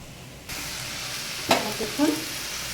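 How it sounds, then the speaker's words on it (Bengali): Chopped banana flower frying in a pan starts to sizzle abruptly after a brief quiet moment, then holds a steady hiss, broken by a couple of sharp clattering stirs. "এখন আমার মোচা ভাজাটা প্রায় হয়ে আসছে"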